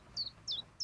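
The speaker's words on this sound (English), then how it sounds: "Ta-da! One chirp in a jar." Three bright, quick bird chirps evenly spaced, each a short downward tweet, clear and close against a quiet background.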